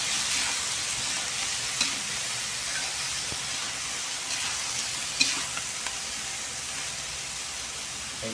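Pansit bato noodles and cabbage sizzle and hiss steadily in a hot pan, with a constant frying crackle and a few scraping stirs and clinks of the utensil over it, and no talking.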